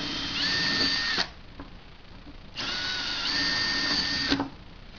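A power drill bores through a fiberglass nosebowl cowling on a two-seat aircraft in two sustained, whining runs of about a second and a half each, with a brief pause between. Close and fairly loud, with no talking.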